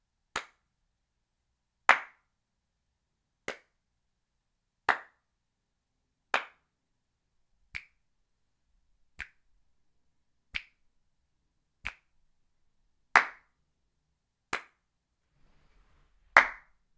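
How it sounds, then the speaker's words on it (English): Single hand claps recorded at close range, twelve sharp isolated claps spaced roughly a second and a half apart in an otherwise silent room, each crisp and dry with a quick decay. "Okay, so I might be able to get my own clap sound."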